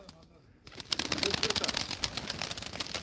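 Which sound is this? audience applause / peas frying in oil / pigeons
pigeons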